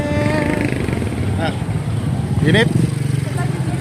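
A motorcycle idles and putters nearby while being parked at a crowded market, a steady low engine chug under chatter and voices of the busy crowd.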